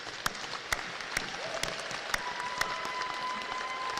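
Audience clapping for graduates' families and loved ones at a spring commencement ceremony, a broad, moderately distant wash of applause with a few sharper individual claps standing out.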